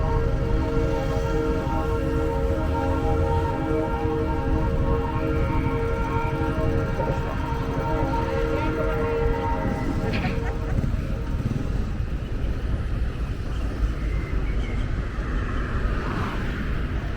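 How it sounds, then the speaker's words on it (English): Rail train rolling along a line beside Horacio Avenue in Polanco, Mexico City, a steady loud rumble with tonal squeal running throughout amid city traffic, fading slightly toward the end. "you can hear a train"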